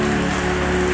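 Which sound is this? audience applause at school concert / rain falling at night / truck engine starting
rain falling at night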